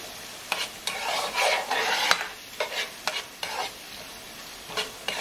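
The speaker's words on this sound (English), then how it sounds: "I'll just keep stirring till it's translucent. And since the oil is already hot" Onions fry in hot oil for a Nigerian egg stew. A spoon stirs and scrapes the pan in repeated short strokes over a steady sizzle, close and fairly loud, with no voices.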